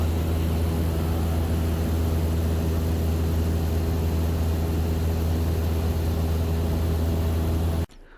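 Steady, loud drone of a small propeller airplane in flight, flying alongside another aircraft toward a nearby airport for fuel, a constant low engine hum filling nearly the whole stretch before cutting off abruptly at the end.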